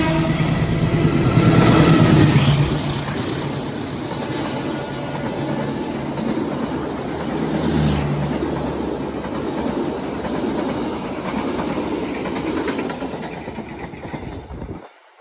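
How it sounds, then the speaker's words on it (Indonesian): Sri Tanjung passenger train pulling out of Purwosari station in Solo, wheels clattering steadily over rail joints with a rumbling carriage drone, loudest early on and continuing at a steady level until it drops away at the end. "Kereta api Sri Tanjung sudah diberangkatkan kembali dari stasiun Purwosari"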